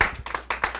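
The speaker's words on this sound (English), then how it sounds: "just want to give Zach a round of applause" A few people at a team meeting clap briefly, with sparse, distinct hand claps over under a second, close and fairly loud.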